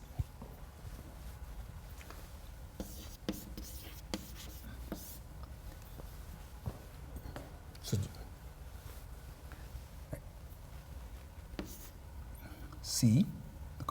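Chalk taps and scrapes against a lecture-hall board in irregular strokes, with occasional sharper knocks and a louder scuffle near the end, under quiet room noise.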